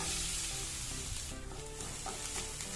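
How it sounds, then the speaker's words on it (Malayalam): Grated coconut roasts in ghee in a pan for a pumpkin sweet, giving a steady close sizzle with occasional stirring scrapes and no talking. "ഇതൊന്ന് ചെറുതായിട്ട് റോസ്റ്റ് ചെയ്തെടുക്കാം. ഒരുപാടൊന്ന് ഫ്രൈ ആക്കണ്ട, ഒന്ന് ചെറുതായിട്ടൊന്ന് നെയ്യിലൊന്ന് റോസ്റ്റ് ചെയ്താൽ മതി."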